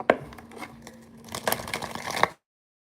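A quick crisp riffle of cards being shuffled, papery flutter with a couple of sharper snaps, close and fairly quiet.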